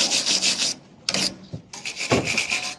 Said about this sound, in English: I'm gonna scrub it and probably put a paint of coat on it so it doesn't rust out.